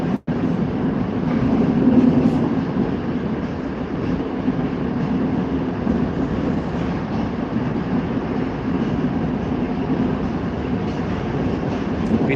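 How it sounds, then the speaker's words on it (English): A Moscow Metro train rumbles steadily and loudly inside the carriage, a dense unbroken roar with no voices. "No, this is not the tube. This is Moscow Metro."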